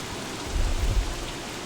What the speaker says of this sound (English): Oh God, it's raining.